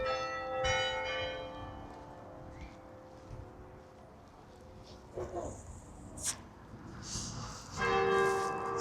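Church bells ring out in the town of Morpeth, Northumberland, steady tolling tones sounding moderately close in the open street, with scattered traffic and street noise toward the end.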